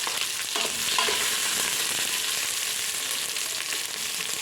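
Onion frying in rendered fat in a pot, a steady close sizzle with faint stirring scrapes and crackles running evenly throughout, no voices.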